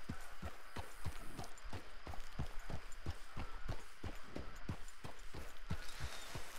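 Horse hooves clip-clop at a steady trotting rhythm in Red Dead Redemption 2, around fifteen sharp, close, loud strikes evenly spaced over a low ambient bed, with no talking.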